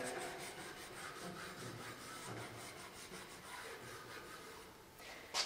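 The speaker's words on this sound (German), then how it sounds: "mit der Kreide streiche ich die Feile ein auf der Seite, wo ich feilen will" Chalk is rubbed onto a file before sharpening a lawnmower blade, a faint, close, steady scraping and rubbing in quick repeated strokes, ending with a brief louder scrape.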